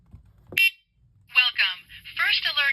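A short high electronic beep sounds once as a battery is inserted into a First Alert wired smoke and carbon monoxide alarm, followed by a synthetic voice announcing a message.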